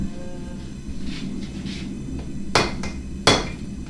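Two sharp metallic hammer strikes, rough-shaping a ram's head knife, ring out over a steady low rumble, spaced apart by under a second.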